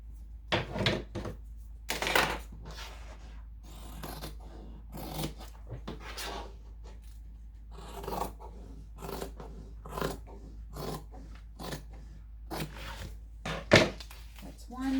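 Scissors cut across fabric for the upper gussets of a messenger bag: a string of short, crisp snips and rustles, fairly quiet and close, with some soft handling noises in the pauses.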